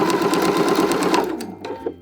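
A sewing machine stitching fabric for a potholder, running in a loud, close, steady mechanical whir with a rapid needle chatter, then slowing and stopping with a few last clicks at the corner.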